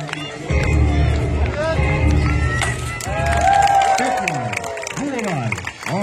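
An audience at a jousting tournament at Skokloster Castle cheers and claps in a broad, rising crowd roar while an announcer talks loudly over it.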